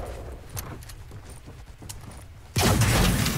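Gunfire from the video game Fortnite: a burst of loud, dense shots erupts in the final second, following quieter scattered game sounds and faint clicks.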